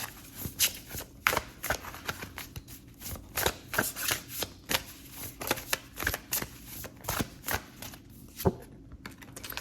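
A tarot deck is shuffled steadily, its rapid papery riffles and card slaps forming a busy, close rhythm with almost no talking.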